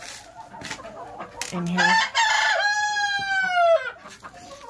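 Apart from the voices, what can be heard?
chickens clucking and crowing in coop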